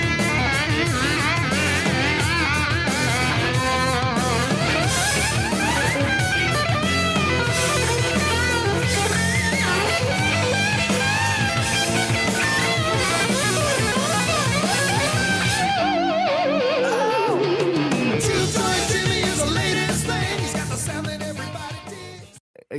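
An electric guitar solo in a rock song: fast, dense distorted lead lines over full band backing, ending in a dive-bomb pitch drop before cutting off.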